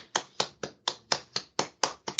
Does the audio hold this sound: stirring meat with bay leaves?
no